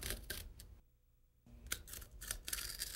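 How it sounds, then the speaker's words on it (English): A utility knife slicing through carpet during closet construction makes a close, scratchy tearing sound in short strokes, with a brief quiet pause midway and no talking. "use the utility knife to cut through the carpet"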